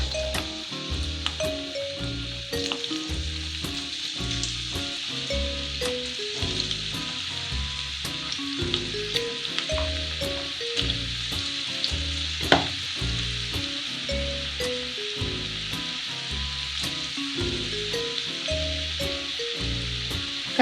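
Cauliflower pieces for Gobi Manchurian fry in hot oil in a kadai, making a continuous close sizzle broken by regular clinks and scrapes of stirring, with no voices.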